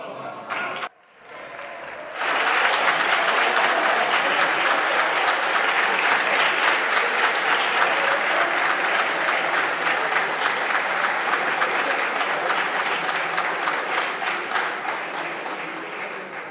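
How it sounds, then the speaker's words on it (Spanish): Sustained loud applause from members of the Spanish Congress during a parliamentary session, a dense roar of many hands clapping that starts abruptly after a brief pause and holds steady for over fourteen seconds. "Sigan aplaudiendo como focas, señorías"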